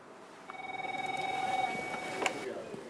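A telephone rings in a call-center setting, a steady repeating electronic ring pulsing for a couple of seconds with a brief clack near the end and faint background.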